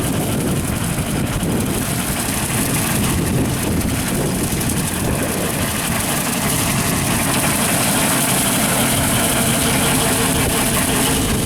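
A tractor running a 15 ft Woods brush hog at 1,500 RPM while cutting grass on a golf course, a loud, steady low engine drone with a constant mechanical roar and no talking.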